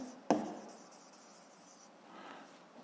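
Pen or chalk writing on a surface during a physics exercise: one sharp tap, then soft, faint scratching strokes, quiet and close.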